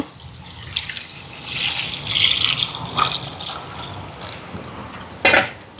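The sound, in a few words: water being added to lentils in a cooking pot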